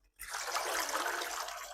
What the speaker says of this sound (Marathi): हळूच अशी पुन्हा हाताने भाजी ही विसळून घ्यायची